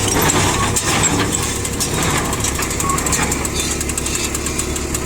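A Star Mr.2000 baler running in a loud, steady mechanical clatter of a working engine and rhythmic knocking and thumping from the pressing mechanism, close and continuous.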